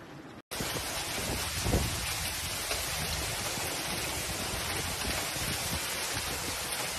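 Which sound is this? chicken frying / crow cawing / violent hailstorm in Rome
violent hailstorm in Rome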